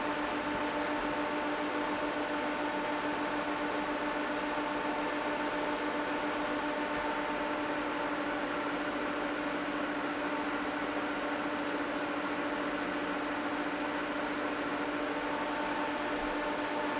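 Louqe Ghost S1 PC case with its chassis fan running at full speed, giving a loud, steady whooshing hum with fixed tonal whine lines that holds unchanged throughout, with no talk.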